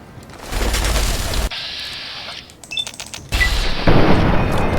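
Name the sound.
gunfire from a gun in the video game Fallout 3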